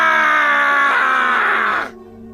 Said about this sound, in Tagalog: Isang malakas at nakakakilabot na sigaw ang umalingaw-ngaw para sa kamatayan at katapusan ng kampon ng kadiliman.